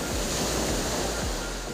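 Sea waves wash steadily onto the beach at Sunilon Island during a storm, a continuous loud roar of surf with rolling low swells and wind noise across the microphone, no voices.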